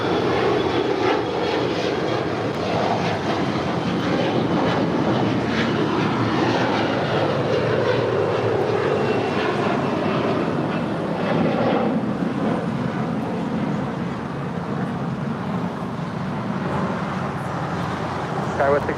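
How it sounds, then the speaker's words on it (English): Hawaiian Airlines A330 jet rolling down runway 24 left at LAX, a broad steady jet roar heard from a distance, even throughout with a faint radio voice underneath. "It's an A330 now pushing back. Zippy now rolling, zipping on down"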